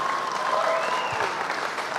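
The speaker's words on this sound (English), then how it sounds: "Oh, no, go ahead and clap." Audience clapping at a Star Citizen community event session, a steady wash of applause that fills the whole moment, with a brief voice faintly heard underneath.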